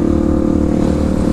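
A Suzuki DRZ 400 Supermoto motorcycle engine idles steadily and loudly up close, an even low rumble with no voices over it.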